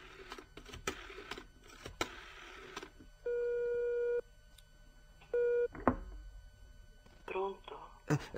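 Two long electronic telephone tones sound, steady and clear, separated by a pause, with speech and small noises around them.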